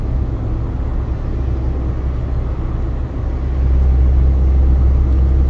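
A car cruising at 80 km/h on the double-lane BR-101 highway near Morro do Cavalo in Santa Catarina gives a steady, loud low road and engine rumble that swells slightly toward the end.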